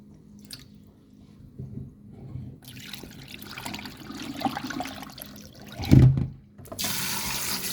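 Brown rice is washed by hand under running tap water in a sink, with splashing, squishing grains and a steady faucet stream, close and fairly loud, no talking.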